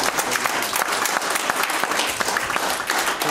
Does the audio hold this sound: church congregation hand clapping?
yes